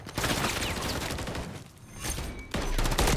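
Rapid gunfire from a gun in Call of Duty MW3, dense bursts of shots filling the clip with a short dip before firing resumes, loud and close.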